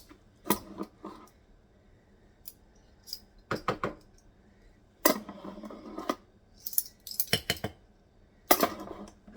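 Spoonfuls of M&M cookie ingredients go into a glass jar in bursts of metallic clinks and rattling scrapes, with quiet pauses between the scoops.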